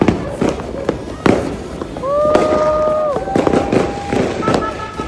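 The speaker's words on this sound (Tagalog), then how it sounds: "Fireworks everywhere!" New Year fireworks go off all around in a celebration, with sharp bangs and crackles, a couple of whistling rockets, and cheering voices and a shout mixed in.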